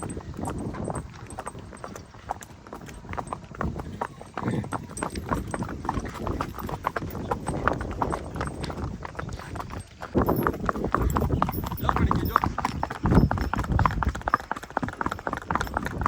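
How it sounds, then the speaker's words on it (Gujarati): A mare's hooves clip-clop in a steady, even rhythm on a hard surface at an ambling gait, growing louder and closer in the second half. "જો મિત્રો ઘોડી રેવલ હાલે માપે માપે."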